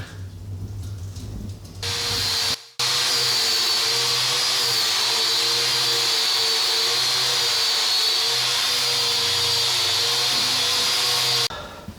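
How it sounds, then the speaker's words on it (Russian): A loud, steady high-pitched whine of a power sander sanding wooden beams, running continuously for about ten seconds, briefly cutting out near the start, with no talking. "Переходим к шлифованию балок наших."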